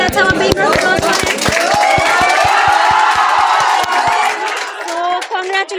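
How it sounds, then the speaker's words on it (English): Students and staff in a coaching institute crowd cheer, whoop and clap loudly for a JEE-Main exam result, with steady rhythmic claps through the first four seconds under a dense roar of shouting voices. "let's have a big round of applause"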